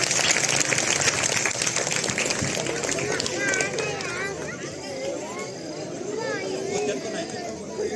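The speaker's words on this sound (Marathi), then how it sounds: "जोरदार टाळ्या वाजवायच्या आहेत" Applause from an audience at a children's karate demonstration, a dense burst of clapping mixed with crowd chatter and some children's voices, fading slightly toward the end.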